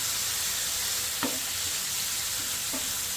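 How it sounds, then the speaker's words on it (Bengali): Steady sizzle of a curry frying in a pan, with tomato going in to join it; a continuous hiss runs throughout, broken by two brief soft clinks or stirs. "এবার আমি টমেটো দিব।"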